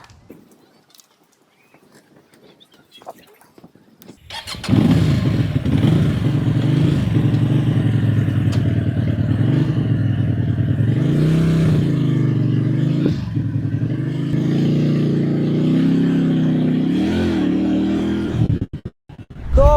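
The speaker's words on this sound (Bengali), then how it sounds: "বাইক তো উঠেই টান মারলাম" An unusual motorbike on a road in China, silent at first, then starting up and running with a loud, steady engine rumble that rises and falls with throttle before cutting off near the end.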